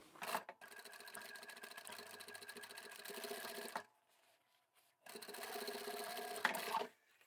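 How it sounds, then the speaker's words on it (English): A sewing machine runs in two steady bursts, stitching outer fabric for a tapered toiletry bag, the motor whirring close and loud with a short quiet pause between runs and no talk. "Let's sew all of these together and then we'll turn it the right way around."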